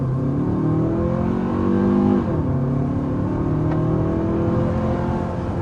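A 2027 Kia Telluride engine accelerating hard from inside the cabin, a loud rising drone that shifts down and climbs again, continuous with no talk.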